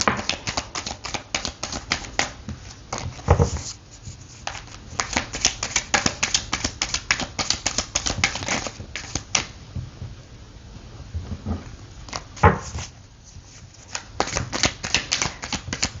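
Tarot cards are shuffled and laid out close up in rapid bursts of crisp riffling, flicking and slapping, nearly continuous with a few brief pauses and no talking.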